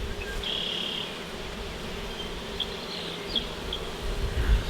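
Steady buzzing of honey bees swarming around an open backyard beehive during an inspection, a continuous dense hum close by with a few individual bees whining past, no talk.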